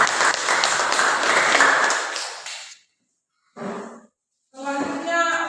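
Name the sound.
audience applause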